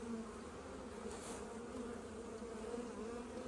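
Honeybees in beehive nucs open for inspection hum in a steady, close buzz with a persistent low drone, continuous and fairly quiet, with no talking.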